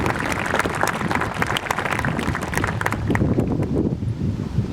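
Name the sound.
audience applause at graduation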